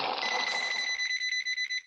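A telephone rings with a bright, warbling electronic bell tone, a steady pulsing trill that starts continuous and then breaks into short rapid bursts, close and clear with no talk over it.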